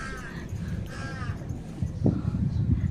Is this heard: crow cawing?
yes